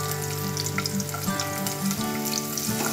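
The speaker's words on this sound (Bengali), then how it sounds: "এখন পেঁয়াজটি হালকা ভেজে নিচ্ছে" Onion frying in a pan for chicken noodles, a steady close sizzle with crackling pops and occasional stirring scrapes, heard alone without voices.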